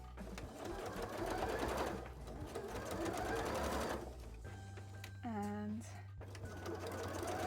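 Sewing machine stitching fabric pieces together, a steady rapid whirring that runs for several seconds, pauses, then resumes, fairly quiet with a voice talking over it.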